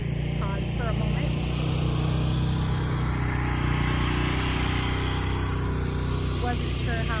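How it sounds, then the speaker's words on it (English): An ATV four-wheeler passes on a rural road, a steady engine drone that swells and fades as it goes by, with a motorcycle also nearby and people talking over it. "we have a four-wheeler coming by, so we'll just pause for a moment."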